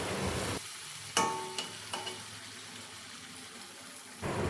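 Water poured into a simmering brinjal and fish curry in a pan, a brief splashing burst after steady frying sizzle, followed by a soft bubbling simmer under low background hiss.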